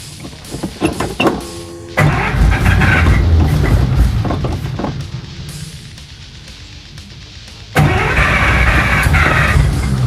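A 1941 Buick engine cranking with the choke partly open: irregular starter churning and sputters early on, then a steady running rumble that fades, before a louder surge of revving near the end.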